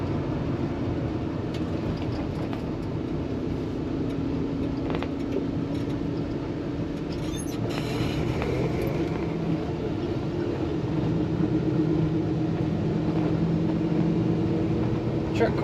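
Engine of a 1966 Chevrolet C10 Stepside street rod with power steering, a steady low drone heard from inside the cab while driving and cornering, with faint road noise and no talk.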